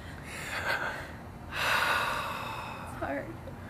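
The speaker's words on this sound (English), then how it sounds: "deep breath." A person living with multiple sclerosis takes a big, deep breath: a short airy intake followed by a long, louder breathy exhale. A faint final puff comes at the end, close and alone with no talking.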